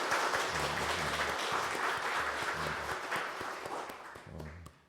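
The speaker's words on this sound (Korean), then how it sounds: "격려의 박수 한번 할까요?" A church congregation applauding the choir during a service, a dense burst of clapping from many hands that holds steady, then thins and fades toward the end.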